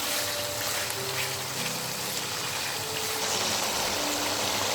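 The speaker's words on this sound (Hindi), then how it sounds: "यहाँ पे मैं पानी ऐड कर रहा हूँ, तकरीबन आधा कप मैंने ऐड किया है यहाँ पे।" About half a cup of water is poured into a cooking pot of spiced chicken gizzards, giving a steady, close splashing and trickling wash with no talk over it.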